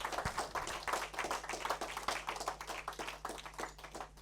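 Congregation applauding in a church service, a steady fast patter of many hands clapping together at moderate distance, fairly soft overall.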